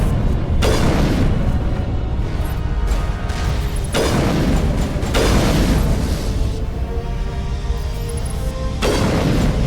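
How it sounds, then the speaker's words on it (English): Grenade blasts in Mass Effect Legendary Edition, several loud booming explosions spaced a few seconds apart over a constant dense rumble of combat noise, no talking. "Slowly flinging the grenade at you"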